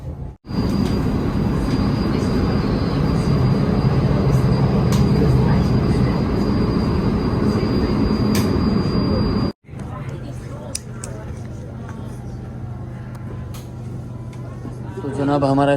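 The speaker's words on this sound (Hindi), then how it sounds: "तो इस ट्रेन में हम बैठे हुए हैं, तो ये ट्रेन हमें को ना 10 मिनट में पहुंचा देगी घर पे।" Steady loud rumble and rolling clatter from inside a moving London commuter train, with faint voices and a brief drop-out as the carriage noise cuts and resumes more quietly.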